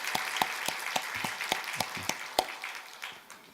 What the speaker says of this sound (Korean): 우리 한번 응원의 박수 한번 보내면 좋겠어요.